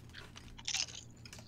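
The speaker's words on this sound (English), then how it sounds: "That's some good crisp. Got that crunch. Salt and vinegar." Salt and vinegar crisps chewed close up, a few short crunches with one louder crunch near the middle, quiet and with no voices.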